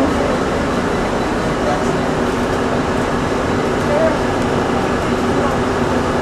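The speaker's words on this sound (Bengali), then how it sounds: "ট্রেনের ভিতরের দৃশ্য।" Inside a moving train carriage, a constant loud rumble and hum fills the space, with indistinct voices murmuring underneath.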